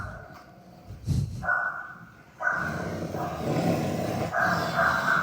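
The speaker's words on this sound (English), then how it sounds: "This dog's like hissing or something, or growling, some kind of weird noises." A dog makes odd low growling and huffing noises, rising into a strained, whiny rumble that carries on steadily.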